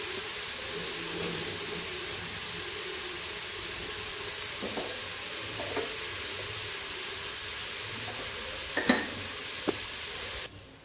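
Onions fry in coconut oil for chicken biryani, giving a steady close sizzle throughout with a few faint scrapes of stirring near the end and no voices.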